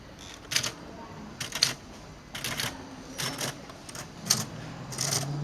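A typing sound cue plays during a stage production: sharp mechanical key clicks in short bursts with gaps between them, over a low steady background hum.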